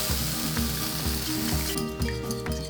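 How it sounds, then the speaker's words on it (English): Barbecue sauce hits a hot pan to deglaze it and sizzles steadily and loudly up close, a continuous frying hiss with faint rhythmic scraping beneath it. "I'm just gonna add a little bit of that to deglaze"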